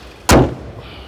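The bonnet of a Hyundai Sonata slams shut once, a single loud close thud that fades quickly into quiet.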